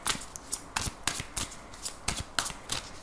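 Tarot cards are shuffled for a reading in quick repeated riffling bursts, close and crisp, about a dozen rapid flutters over three seconds with no talking.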